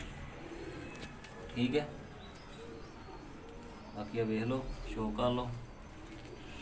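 Breeder teddy pigeons coo in soft, low repeated calls while someone talks over them nearby.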